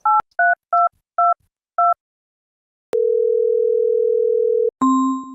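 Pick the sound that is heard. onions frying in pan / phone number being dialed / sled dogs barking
phone number being dialed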